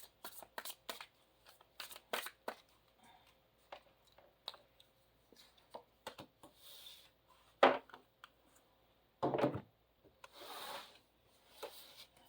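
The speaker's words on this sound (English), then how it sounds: "I just want to put down all the cards." Oracle cards, a Mystical Shaman Oracle deck, are laid down one after another on a table, giving soft irregular slaps and slides with quiet shuffling between them and a few louder placements.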